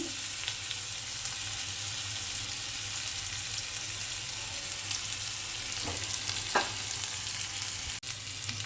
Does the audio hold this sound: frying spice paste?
yes